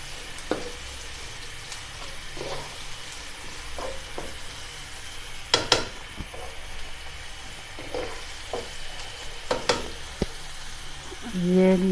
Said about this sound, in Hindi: इसको हल्का सा फ्राई करते हैं।